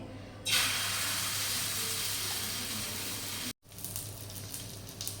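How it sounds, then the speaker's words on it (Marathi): Moong dal uttapam batter hits a hot oiled pan with a sudden, loud, steady sizzle that holds for a few seconds, breaks off abruptly, then resumes slightly quieter. "बॅटर आपण पॅनमध्ये सोडल्यावर एक ते दोन सेकंदाने त्याला छान असे ब बबल्स येतात"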